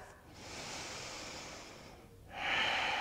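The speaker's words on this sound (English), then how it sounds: "We take one more breath." A slow, steady breath during a vinyasa yoga flow, a long soft airy exhale followed by a brighter, stronger inhale, close and alone with no talking.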